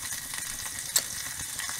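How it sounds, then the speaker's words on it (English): Steady sizzling of skirret tubers frying in a hot pan, a continuous close crackle with one brief sharper pop midway. "I'm frying up the few morsels of skirret I had left over from dividing plants"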